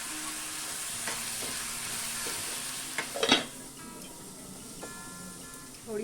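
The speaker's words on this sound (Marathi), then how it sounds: "थोडं मीठ घालून घेऊया आणि कांदा छान कोमवून घेऊया।" Onions with a little salt sauté in a pan for a prawn masala, giving a steady soft sizzle broken by a few stirring scrapes and one louder clatter near the middle.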